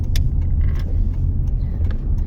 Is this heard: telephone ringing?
no